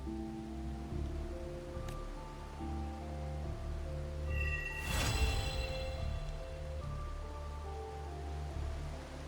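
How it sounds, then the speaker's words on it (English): Rain falls in the Wuthering Waves video game, a soft steady patter under tonal ambient music, with a brief whooshing swell midway, moderately quiet and without speech. "This rain, it's finally happening."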